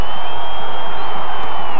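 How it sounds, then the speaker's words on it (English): A football stadium crowd at a New Mexico AAAA high school state championship roars in a loud, steady wash of cheering that fills the whole stretch, with no break and no clear voices rising above it. "The crowd now getting on its feet and getting into the game for the first time since the opening kick."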